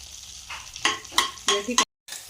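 Green chillies and cumin seeds frying in a pan, with a steady sizzle broken by several loud stirring bursts before a brief cut to silence near the end.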